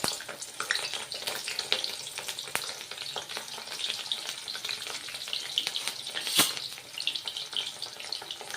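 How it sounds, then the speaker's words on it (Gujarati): Cauliflower florets frying in hot oil for a Gujarati cauliflower curry give a steady, close crackling sizzle with scattered sharp pops and a brief louder burst near the end, with no voices. "અહીંયા આપણું તેલ ગરમ થઈ ગયું છે. તો સૌપ્રથમ આપણે ફુલાવર એડ કરીશું."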